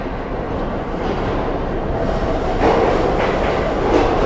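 A New York City subway 1 train bound for South Ferry rumbles along steadily, a loud continuous roar of wheels and motor that swells slightly toward the end, with no voices.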